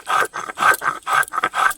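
Paste is ground by hand on a stone during a household New Year ritual, making a steady rhythm of about seven close, gritty scraping strokes, each a short rub, with no voices.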